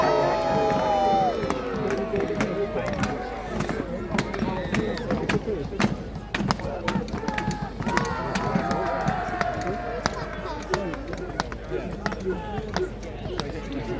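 A crowd at a Battle of Hastings reenactment cheers and shouts in the open air beneath a loud, close narrator's voice, with sharp clacks and thuds from the mock fighting scattered through.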